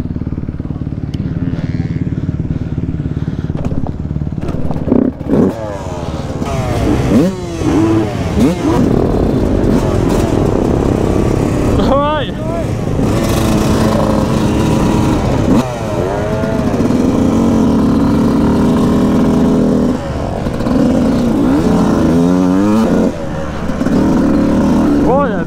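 Motocross motorcycle engine revving hard while a novice rides at a stubble-field MX track, loud and continuous with repeated throttle rises and falls and gear-change sweeps; no talk.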